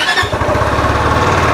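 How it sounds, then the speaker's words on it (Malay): An Ariic Gobi 250 adventure scooter engine runs loud and close, a steady pulsing throb with rapid rhythmic firing and no talk. "Jom saya belanja sikit bunyi motor ini."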